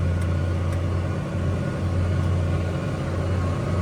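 A tractor engine pulls a scraper pan through clay soil at about half throttle, a steady, loud low rumble with a constant drone and no breaks, running alone without voices.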